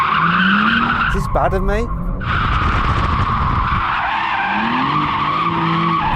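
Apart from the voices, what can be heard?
BMW M4 tyres squealing while skidding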